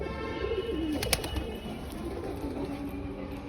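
Pigeons in a home loft cooing softly, a few low warbling coos rising and falling against quiet background noise, fairly close, with a brief sharp tap partway through.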